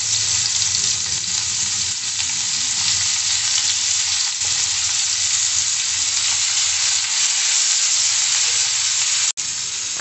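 Chopped onions fry in a pan for a Maharani begun (eggplant) dish, a loud, continuous close-up sizzle with a sharp clack of stirring near the end; no voices.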